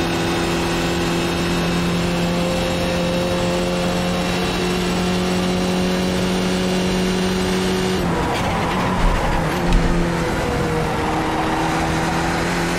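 A Skip Barber race car in iRacing at Long Beach holds a steady, loud engine drone, then shifts gear with a sudden pitch drop and rough, fluctuating revving as it accelerates again.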